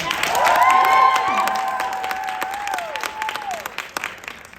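Convention crowd at BroadwayCon in the Marriott Marquis breaks into applause with whoops and high cheering shouts, loud at first then thinning into scattered claps as it fades.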